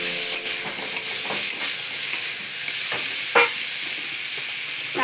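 Chopped tomatoes sizzle steadily in a hot pan, with a bright hiss throughout and occasional clicks and scrapes from stirring.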